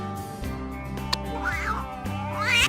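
A cat meows twice in drawn-out, rising calls, heard over light background music in a children's animal-guessing game.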